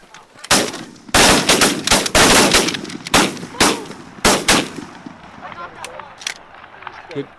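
Rapid bursts of video game gunfire, loud and close, fire in several volleys as enemies are shot, with people talking and calling out in between.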